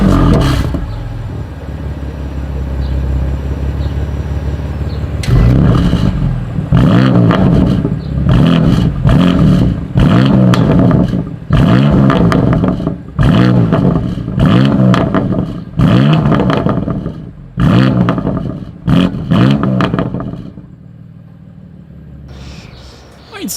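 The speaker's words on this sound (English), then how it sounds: "Here is that exhaust clip." A 2020 BMW M2 Competition with a dual exhaust and quad tips idles, then fires off a series of about a dozen sharp, loud revs in quick succession, each dropping back before the next blip.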